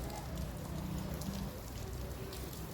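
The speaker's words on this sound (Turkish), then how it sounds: "Burada yağmur var." Rain falls in the courtyard of the Muradiye Mosque in Manisa, Turkey, near its ablution fountain, a faint, steady patter throughout.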